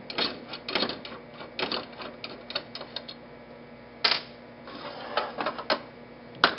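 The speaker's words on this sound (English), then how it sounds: "I'm going to remove this screw." Rapid clicking bursts from a tool loosening screws on a Goerend transmission bracket, coming in short irregular clusters with brief pauses, close and fairly quiet, with no talking.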